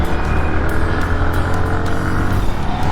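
A 2023 Bajaj Pulsar NS 160 motorcycle engine runs while riding, a loud steady drone with rushing wind noise close to the microphone, no talk.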